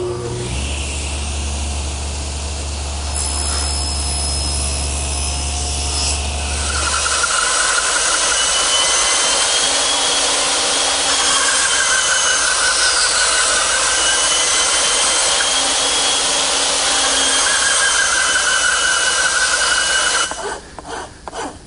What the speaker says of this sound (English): then remove the rest of the material with my bandsaw,